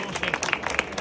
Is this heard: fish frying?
no